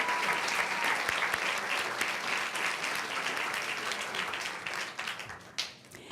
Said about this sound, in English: Audience, let's give her another round of applause.